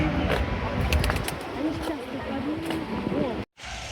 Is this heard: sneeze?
no